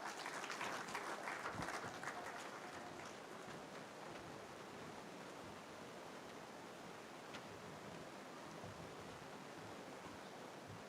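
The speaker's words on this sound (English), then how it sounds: "A big hand clap for Dr. Peter Waiswachove." Audience applause for a speaker at a regional health assembly in Busoga, a steady, fairly faint wash of clapping that holds evenly through the whole stretch, slightly livelier at the start.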